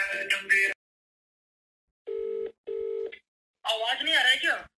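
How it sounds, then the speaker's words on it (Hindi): Two short telephone dialing beeps sound in quick succession on a phone call, clean and evenly pitched, between bursts of someone speaking before and after. "अब उसको फ़ोन करते हैं अकाउंटेंट को"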